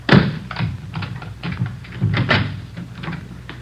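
Door being unlocked and opened as a radio drama sound effect in the Dragnet police show: a run of small clicks, taps and knocks from a lock and handle, close and fairly crisp, with no voices over it.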